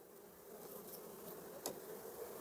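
Honey bees swarm around an opened hive, a steady close buzzing drone holding throughout at a fairly even level, with no talk over it.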